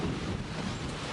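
Wind buffets the microphone at an outdoor golf driving range in Barbados in a steady, low roaring rumble, with no other sounds standing out.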